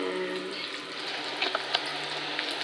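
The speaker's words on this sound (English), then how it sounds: "frying job currently happening over there." Steady oily sizzling of food frying in a pan, with a few sharp pops and crackles breaking through the continuous hiss.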